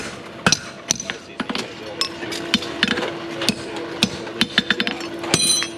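Sharp metallic hammer blows ring out from a farrier shaping a horseshoe on an anvil at a clinic, struck in irregular bursts and quick clusters against a steady background hum of the shop.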